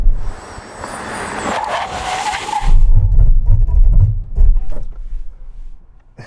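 A Chinese-made Audi braking hard during a braking test: a loud tire skid and squeal fading out, followed by low engine rumble and vehicle noise close by.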